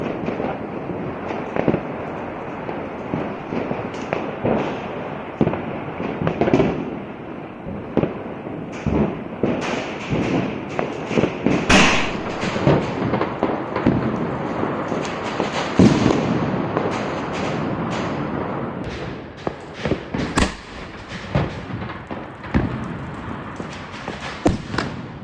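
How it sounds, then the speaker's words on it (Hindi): Golden Cluster Sky Shot firework by Cock brand going off outdoors: a dense, continuous barrage of crackling pops, thuds and bursts, loud and close, running without pause for about twenty-five seconds with no voices. "देखते कैसे चलता है golden cluster sky shot bye Kock brand. चलिए इसे टेस्ट करें।"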